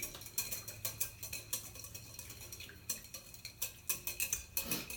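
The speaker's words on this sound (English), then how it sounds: "And then I'll just whisk it in." A whisk clicks and scrapes in a bowl, beating salt into a vinaigrette: quick, fairly regular light taps, close but soft, with brief pauses.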